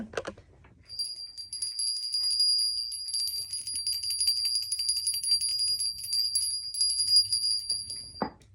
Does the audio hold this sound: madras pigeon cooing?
no